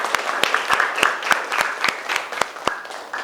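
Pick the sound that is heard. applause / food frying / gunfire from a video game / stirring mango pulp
applause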